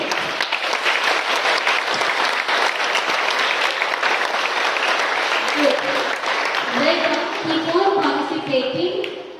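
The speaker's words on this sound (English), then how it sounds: "So give a huge round of applause for yourself" Students at a school assembly give sustained, loud applause, a dense wash of many hands that continues as a speaker's voice rises over it toward the end.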